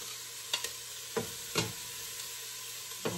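Onion and minced garlic sauté quietly in a pan, a faint steady sizzle broken by a few sharp scrapes and clinks as they are stirred.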